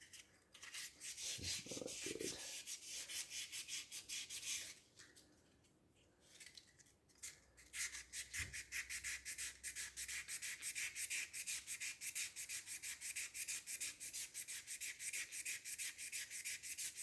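Close, rapid back-and-forth sanding rubs scratches from a brake caliper part off a WB Holden van, a steady rasping stroke rhythm that pauses briefly midway and then resumes.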